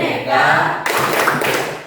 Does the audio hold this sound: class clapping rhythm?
yes